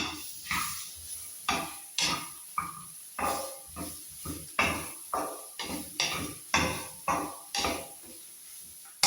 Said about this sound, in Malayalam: കാൽ ടീസ്പൂൺ മഞ്ഞൾപ്പൊടി ചേർത്ത് ഇളക്കി കൊടുക്കാം